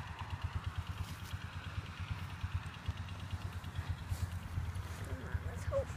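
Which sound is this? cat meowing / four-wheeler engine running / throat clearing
four-wheeler engine running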